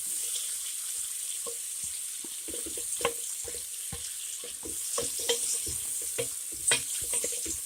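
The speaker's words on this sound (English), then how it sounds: "let these saute for about 5 minutes." Thinly sliced onions sauté in a skillet with a steady, close sizzle, broken by scattered clicks and scrapes of stirring.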